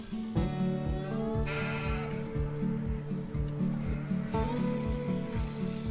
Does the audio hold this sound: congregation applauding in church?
no